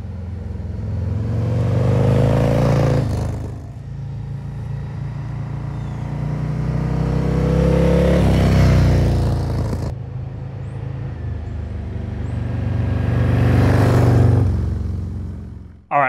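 A Harley-Davidson motorcycle fitted with a Khrome Werks exhaust baffle rides under load, its engine droning and rising in long swells as it revs up and shifts through gears, heard close and steady with no talking.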